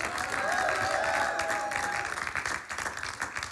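Studio audience at a televised church programme breaking into dense, sustained applause and acclaim, loud and continuous, with a crowd voice briefly rising before it thins slightly.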